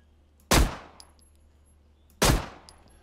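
Two heavy shotgun blasts in the zombie game Zompiercer, each a sharp booming crack with a ringing decay, spaced about a second and a half apart and standing alone without talk.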